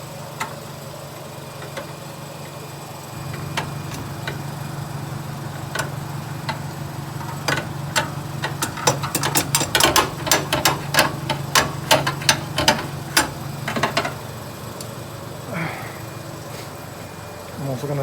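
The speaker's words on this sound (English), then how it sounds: "Tap on the starter." Someone taps on the starter of a 1969 Mustang Mach 1 that has trouble starting. A rapid cluster of sharp metallic knocks rings out over a low background hum, then trails off into a few scattered taps.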